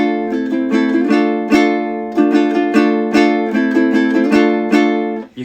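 Ukulele strummed with the thumb in a repeating light-down then full-down pattern, bright ringing chords struck in an even rhythm, close and clear with no talking.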